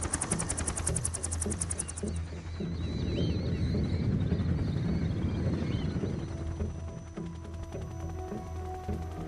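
In the Metal Gear Solid 3 video game, five helicopters carry a large device, their rotors a rapid, loud chopping over a low rumble, continuous and close, with no talk.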